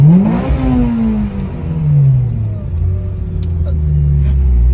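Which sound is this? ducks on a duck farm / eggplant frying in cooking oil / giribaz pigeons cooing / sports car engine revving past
sports car engine revving past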